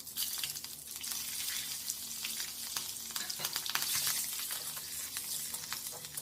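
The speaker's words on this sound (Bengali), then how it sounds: "কালো জিরে, তেজপাতা আর কাঁচা লঙ্কা ফোড়ন দিলাম" Kalonji, bay leaf and green chilli sputtering in hot oil for tel koi, a dense, crackling sizzle that stays loud and close throughout with rapid popping spatters.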